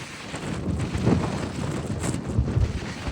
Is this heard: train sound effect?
no